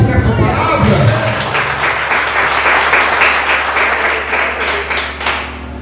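A church congregation applauds after a sermon, a dense burst of many hands clapping that swells and holds for several seconds before tapering off, with faint voices mixed in.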